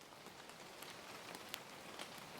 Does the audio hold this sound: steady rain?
yes